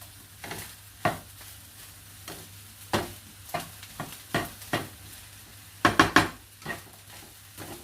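Tomatoes sizzle in a hot pan for shrimp fried rice while a utensil scrapes and taps against it in irregular strokes, with a quick cluster of clatters near the end.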